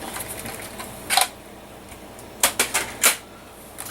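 Background paper trimmed for a card layout, likely with a paper trimmer: a few short crisp cutting clicks and swipes, one around a second in and a quick cluster of three or four near the end, close and fairly loud.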